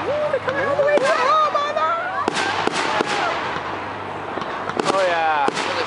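Canada Day fireworks in Markham in 2011 burst loudly again and again, with sharp bangs, crackles and whistling streaks overlapping one another, while spectators nearby talk and exclaim throughout.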